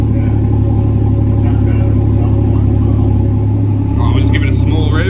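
A cold Ford Falcon FG G6E Turbo idles with a deep, steady rumble and then gets a small rev toward the end. It is loud and close, with speech over the engine.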